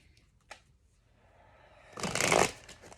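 An oracle card deck is shuffled up close, with a few soft taps followed by a brief, dense riffle of cards that swells and then stops.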